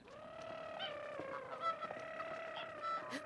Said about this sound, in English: Wait, geese. Sad geese.